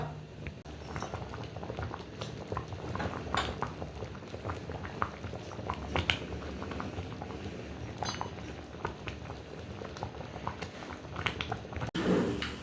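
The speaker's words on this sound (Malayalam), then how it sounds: "കൽച്ചട്ടിയായ കാരണം ഇനി തിളച്ച് കൊണ്ടേയിരിക്കും." Rasam in a stone pot (kalchatti) simmers with soft, irregular bubbling and small pops, heard close and fairly quiet with no voices over it.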